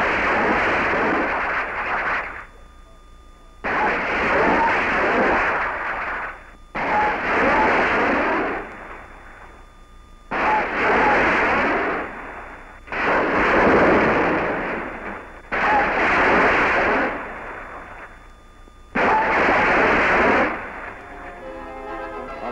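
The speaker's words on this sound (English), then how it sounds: "Shooting 2 5-inch rockets in salvo, the apparatus can be accurately aimed and reloaded without delay from below." A salvo of 5-inch rockets fired from a rapid-fire launcher on a warship: seven long, loud roaring whooshes, each lasting about two seconds, follow one another at a steady pace with brief gaps between them, and no one speaks.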